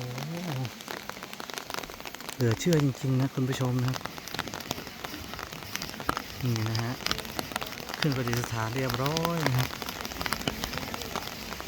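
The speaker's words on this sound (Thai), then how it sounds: "อ้าว ฝน มา อีก แล้ว นะคุณผู้ชมนะฮะ" Rain falls steadily outdoors during a Thai merit-making event, a continuous hiss throughout, with a voice speaking over it intermittently.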